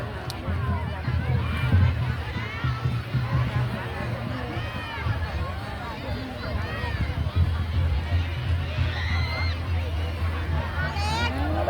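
A crowd cheering loudly together at a school sports running race, a dense continuous roar of voices and chatter filling the whole stretch, with an announcer talking over it.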